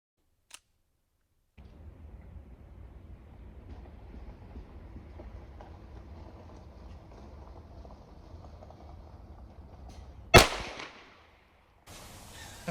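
A single sharp, loud 9mm pistol shot with a 124 grain load, fired at a target, cracks out near the end, briefly ringing out over low background rumble.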